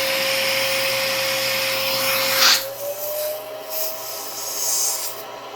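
A Riccar Impeccable canister vacuum cleaner runs close by with a steady, loud whining drone. Its pitch rises slightly and the airflow roughens midway, as if suction changes.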